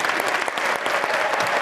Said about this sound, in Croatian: što su prisutni natjecatelji i publika nagradili velikim pljeskom